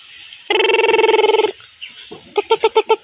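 A chicken clucks in a short burst of rapid, loud calls. A sustained ringing tone precedes it.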